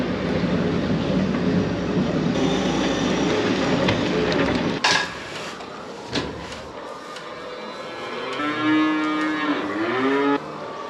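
Cattle low loudly at feeding time after silage and grain are tipped into their feed, with a long, deep moo rising and bending near the end over a steady rumble of machinery and shuffling.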